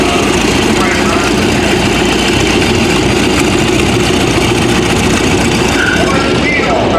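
Engine of a vintage 1953 tractor in a steam engine association parade, a steady rumbling drone running continuously with broadband noise, fairly loud and close, with faint voices in the background.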